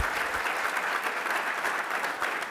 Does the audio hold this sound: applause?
yes